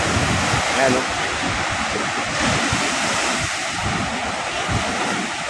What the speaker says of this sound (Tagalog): Tindi ng alon mga kapising.